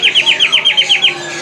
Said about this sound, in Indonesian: Cakep burungnya, suaranya keras ya. Volumenya keras.